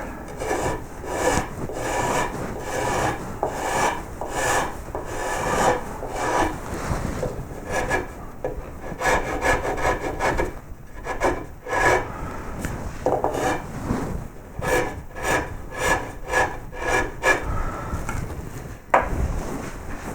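Carving a wooden koi carp head, refining and cleaning up the mouth edge, with continuous close rasping strokes of a tool scraping the wood in a fast repeated rhythm and no talking.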